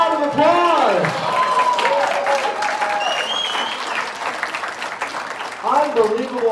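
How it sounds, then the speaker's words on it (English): Loud, sustained audience applause for a volunteer at a stage hypnosis show, with a voice talking over the clapping throughout and the crowd noise holding steady to the end. "Ladies and gentlemen, give a round of applause."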